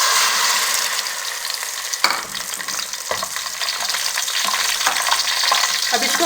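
Green chillies with ginger and garlic paste fry in a pan, a steady close sizzle broken by a few stirring scrapes and clatters.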